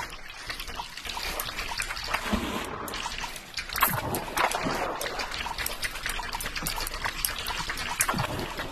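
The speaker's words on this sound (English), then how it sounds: "This must be water running." Running water in a Gorilla Tag clone video game, a steady broadband trickle and splash that continues without a break, fairly faint and alone with no voices over it.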